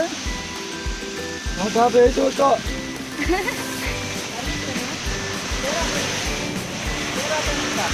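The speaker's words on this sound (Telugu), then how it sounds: "చూడండి వర్షం ఎట్లా పడుతుందో" Steady rain falls outdoors with a continuous broadband hiss. People wait for an auto-rickshaw, and voices and laughter break in over the downpour.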